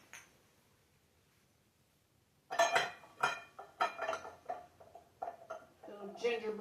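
Small decorative salt and pepper shakers set down one after another on a kitchen counter among Christmas decor, giving a run of close, sharp ceramic clinks and taps after a quiet start, with a voice speaking between them.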